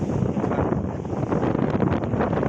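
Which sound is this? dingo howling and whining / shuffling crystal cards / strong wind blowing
strong wind blowing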